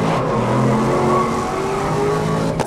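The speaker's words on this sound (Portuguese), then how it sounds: "Cara freando demais." A race car in GRID (2019) brakes hard, its engine note droning loud and steady with tire squeal and skidding layered over it, close and continuous.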